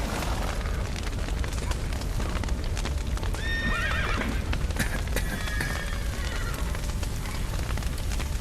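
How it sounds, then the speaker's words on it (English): Horses in The Witcher 3 near a burning building with a collapsed roof. Several neighs and whinnies rise over rapid hoof clatter, set against a constant loud roar of fire. "The horses!"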